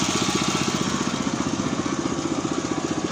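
A farm truck's small Mitsubishi engine chugs steadily with a rapid, even putter, running close by without any talk.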